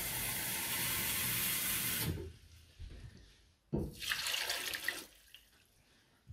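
Tap water runs steadily into a pot for celery soup, loud and close. It cuts off, then comes in a second shorter burst with splashing and handling noise.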